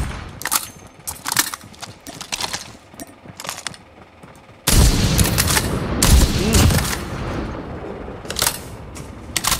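Gunfire in a Call of Duty: Mobile battle royale match: sharp bursts of rapid shots, first in separated clusters and then a loud, sustained barrage over louder background noise.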